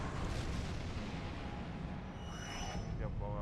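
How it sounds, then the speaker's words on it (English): Torpedo fire in the space game Star Trek Online, a loud, rumbling boom sustained throughout, followed by fainter tonal sweeps and game effects near the end. "Fire torpedo."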